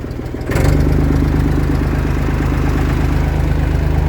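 A tractor engine drives a Bartec PT 400 sprayer pump that fills the tank with water from a stream. After a quiet start it jumps to a loud, steady running drone with a regular low throb that holds to the end.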